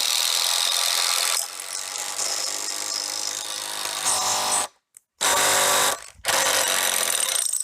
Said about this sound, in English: having an impact for this part works out a lot better than a drill